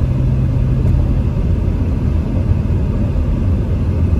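Car driving a little fast on a mountain road near Big Bear, heard from inside as a steady loud low rumble of engine and road noise, with no talk.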